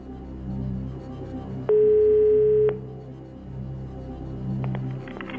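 Phone-a-friend call on the Czech quiz show Chcete být milionářem: a single steady electronic ring tone lasting about a second sounds over a low studio music bed, with no one speaking.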